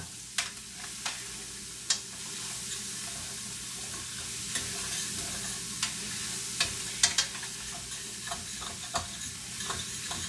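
Vegetables sweating in a deglazed pan for a pappardelle and meatballs dish, a steady close sizzle under repeated scraping stirs with occasional sharper clinks, no talk.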